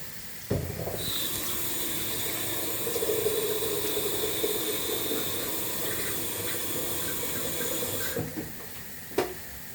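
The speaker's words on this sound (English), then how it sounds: "now I have boiling water and I add boiling water in cabbage and in my vegetables." Boiling water pours steadily into a pot of cabbage and vegetables for borscht for several seconds, a bright rushing hiss that ends abruptly, followed by a faint clunk.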